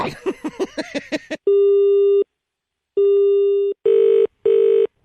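A phone call cut off: garbled voice fragments give way to a steady disconnect tone, beeping alone in several sustained bursts with gaps, the last two shorter and evenly spaced.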